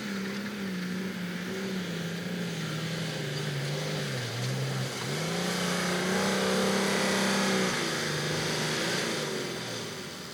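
An off-road vehicle engine revs hard on a run-up along a rough track, a steady loud drone that rises and falls in pitch with the throttle and dips briefly midway.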